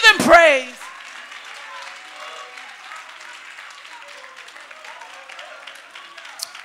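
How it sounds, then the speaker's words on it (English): Church congregation clapping hands during a sermon, a loud burst of voice at the start followed by a soft, continuous wash of scattered clapping in the background. "clap your hands and give him praise"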